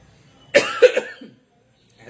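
A single person coughs once or twice at close range, a short burst of a few rough bursts lasting under a second, then quiet.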